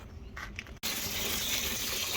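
Water pours steadily into dry Safe-t-sorb clay substrate in an aquarium, a loud continuous rushing wash that starts abruptly and runs without a break.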